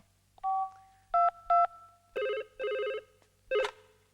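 A telephone call is placed in a Tamil comedy film scene: a few short keypad tones beep, then several evenly spaced ringback buzzes follow, clear and close, with no talking.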